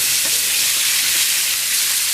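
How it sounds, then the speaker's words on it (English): Quinoa patties frying in a pan on a stove, a loud, steady hissing sizzle with spattering grease, close and continuous with no talk. "She's got grease flying all over her stove."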